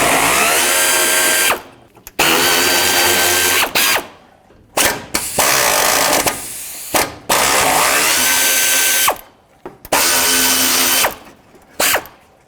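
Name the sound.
removing 10mm bolts from Toyota Camry upper radiator support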